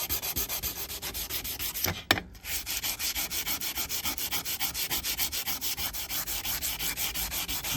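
Steady rhythmic rubbing of sandpaper across stainless steel trim, close and continuous, with one brief pause and a scrape partway through before the strokes resume.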